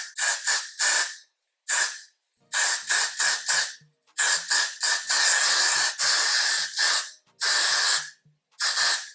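Repeated short bursts of Got2b hair spray on a synthetic wig, quick hissing pumps in clusters with brief pauses between them, close and loud.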